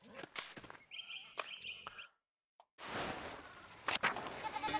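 Sheep in the medieval video game Pentiment give several short bleats, some of them reedy, over soft game ambience. A brief silence falls midway, then the field sounds and footsteps return.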